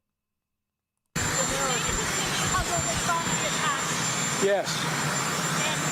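A helicopter runs nearby during a presidential press gaggle, its steady roaring engine and rotor noise filling the air continuously while reporters' voices rise faintly underneath.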